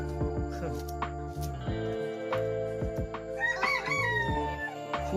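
A rooster crows on a farm among other fowl, giving a couple of loud drawn-out calls close by, with clucking and other birds around it and continuous background noise.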